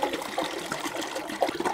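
Rust remover liquid being poured out of a motorcycle fuel tank during tank sealing, a steady close trickle and splash of liquid with small glugging surges, heard alone.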